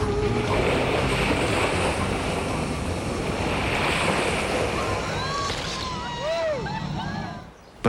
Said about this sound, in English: This jet-powered boat is one of the newest ways visitors can experience Niagara.